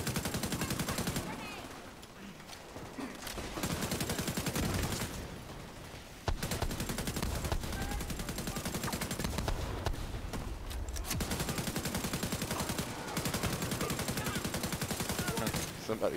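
Rapid automatic gunfire in the shooter game The Division 2, loud dense bursts repeating almost continuously over several seconds with brief pauses between volleys.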